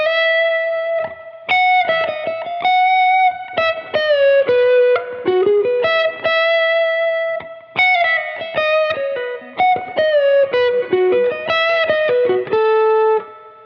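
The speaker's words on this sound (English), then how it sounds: "So if I engage the Tube Screamer to sort of get that vibe" Electric guitar played through a Tube Screamer overdrive pedal, a run of bluesy single-note phrases with bends and quick picked notes, clear and close, with short pauses between the licks.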